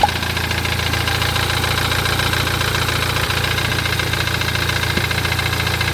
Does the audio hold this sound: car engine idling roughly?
yes